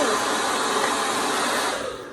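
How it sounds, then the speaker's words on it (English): A hair dryer blowing hot air onto a sticker tag to loosen it, a steady close whooshing roar with a constant motor tone that holds evenly and then tapers slightly at the end. "hairdryer. And so you heat it up"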